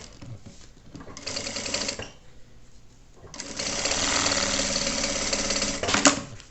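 A sewing machine stitches a shoulder bag of clear crystal plastic, running in two bursts: a short run near the start, then a longer steady run after a pause, close and fairly loud.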